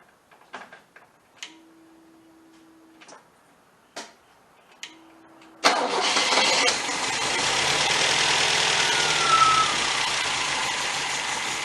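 A 1977 MGB engine cranks after a few clicks and faint beeps, then catches and settles into a loud, rough, uneven idle that runs steadily to the end.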